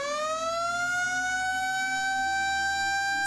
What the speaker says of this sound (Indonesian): petugas akan membunyikan sirine kedua sebagai tanda gempa bumi sudah berhenti